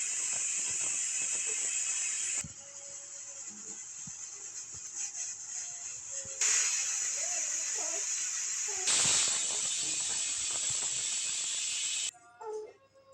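A pressure cooker holding village-style chickpea sambar hisses a loud, sustained high steam whistle. It cuts out and restarts several times, with softer rattling and faint background sounds in the gaps.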